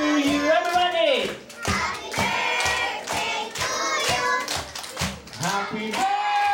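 People clap along to a Happy Birthday song at a party, rhythmic claps under loud group singing with children's voices, steady throughout.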